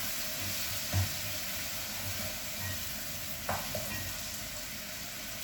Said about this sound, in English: Then you stir.